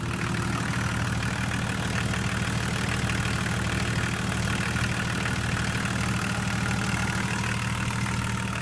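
A 2.5-litre turbodiesel engine in a BMW E39 idles steadily with a low, even rumble and a faint rhythmic knock, constant throughout with no voices.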